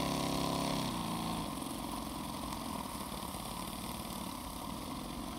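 A Microcosm M36 model steam engine runs just out of the box at moderate volume, a steady rapid chuffing and whirring beat that shifts to a lower, slightly rougher tone after the first second and then holds even.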